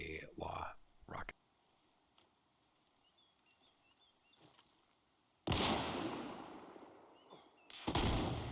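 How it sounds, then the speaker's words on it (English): A LAW rocket strikes a vehicle in the Arma Reforger game: after brief speech and a quiet stretch, a loud broadband blast erupts and rumbles on, then a second sharp burst follows. "Let's see if this can withstand a law rocket."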